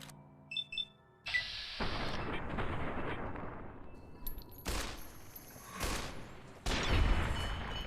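Gunfire in Fallout: New Vegas while fighting geckos: a few sharp shots up front, then loud sustained bursts of firing, with heavy blasts near the middle and end.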